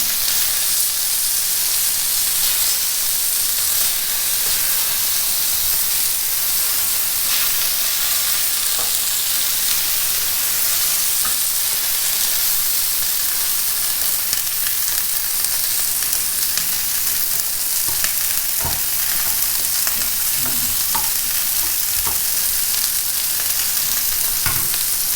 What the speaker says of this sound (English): The more they sizzle, the better.